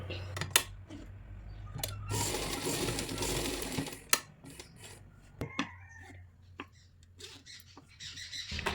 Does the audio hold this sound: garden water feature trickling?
no